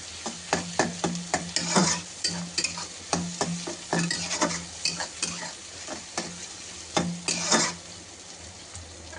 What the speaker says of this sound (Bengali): একটুখানি নেড়ে নিই।